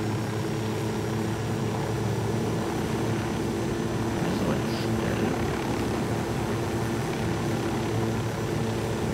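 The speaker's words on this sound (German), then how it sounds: "Das ist so ein Stabsfeldwebel-Hubschrauber." A helicopter flies in the video game Ghost Recon Wildlands, its rotor and engine making a steady, loud, droning rumble throughout with no clear change, and a voice speaks faintly underneath.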